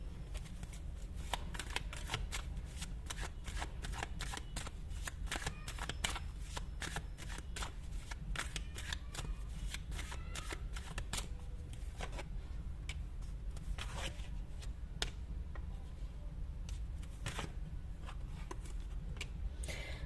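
A tarot card deck being shuffled continuously, with rapid close papery riffles and snaps over a low steady hum, no talking.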